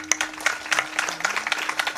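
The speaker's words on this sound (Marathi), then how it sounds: "यांच्या सर्वांसाठी एकदा टाळ्या वाजवा" A village gathering at a devotional discourse claps for the villagers and sound system crew, a brisk, uneven spatter of many hands at moderate volume with a faint tone running underneath.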